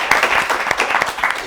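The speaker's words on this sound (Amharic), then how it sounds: "አጨብጭቡላት በደንብ።" A group of children in a TV studio clap for a girl, a brief burst of steady, close applause.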